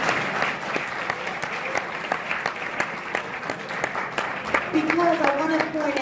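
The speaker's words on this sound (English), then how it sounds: "So let's give them a big round of applause." Audience applause at a VEX Robotics New England Regional event, a steady dense clapping from a crowd that fills the whole stretch, with a voice talking faintly over it near the end.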